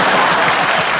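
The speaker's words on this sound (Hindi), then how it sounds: "एक बार माधुरी मैम के लिए जोरदार तालियां हो जाएं" Audience applause at the IIFA 2023 awards show, a dense, steady wash of clapping from a large crowd filling the whole second at close, even loudness.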